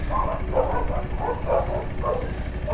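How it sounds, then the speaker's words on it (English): Dogs at an animal shelter barking and yipping in quick repeated bursts during a scuffle, moderately close and loud, with no talk over them. "Little dog fight going on over there at the shelter."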